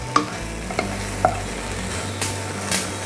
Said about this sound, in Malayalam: ഇതിലേക്ക് നമ്മൾ ചതച്ച് വെച്ചേക്കുന്ന ബീഫ് ഇട്ട് കൊടുക്കുക. ഇളക്കി കൊടുക്കുക.